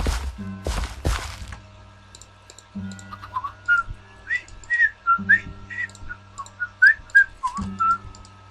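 A person whistles a tune alone, with clear, bright notes in a short melodic run after a few thumps at the start, close and fairly loud.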